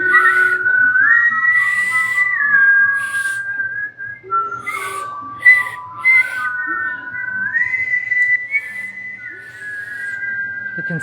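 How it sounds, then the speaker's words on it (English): A group whistles together during a meditation class, wavering sustained tones that rise and step between pitches, some breathy and airy, continuing steadily throughout with no talking. "we're all just gonna whistle or attempt to whistle"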